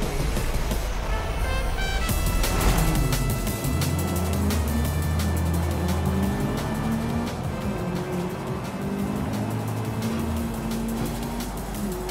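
A car engine races steadily through a race in Forza Horizon 5, a continuous loud, droning motor roar with shifting revs and small tonal whines throughout, no talk over it.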